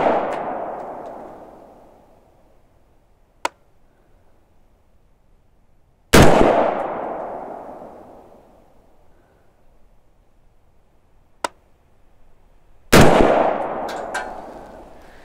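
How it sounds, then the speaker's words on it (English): Three loud, close gunshots from a PSA Freedom AR-15 rifle firing steel case ammunition, spaced several seconds apart, each with a long echoing decay; faint metallic clinks fall between shots. "Until then, I'm shooting steel case."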